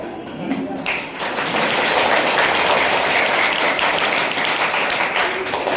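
Audience applause for students placed third at a school cluster gathering of a children's values centre, a dense, steady wash of many hands clapping throughout, with a voice speaking briefly at the start.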